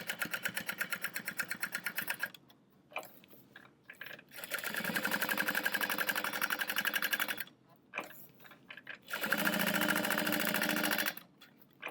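A sewing machine runs in three long bursts of top stitching through crossbody bag panels, steady and close, its fast needle rhythm separated by short pauses with handling noises.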